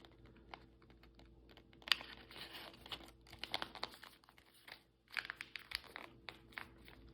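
Paper being folded and tucked into pockets, with soft crinkling, rustling and scattered crisp crackles in quiet, close-up bursts.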